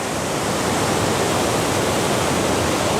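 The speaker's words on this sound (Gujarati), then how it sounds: "આપણે ચાર ચાર ફૂટ બહુ ઝડપની અંદર પાણી નીકળે" Water rushes through opened dam gates into a river during monsoon rain at Bhanvad, a loud, steady broadband roar that fills the whole clip without any voices.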